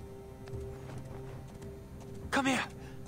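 A short, bright horse whinny in Assassin's Creed Origins bursts out near the end, rising and falling over a low ambient hum and faint footsteps.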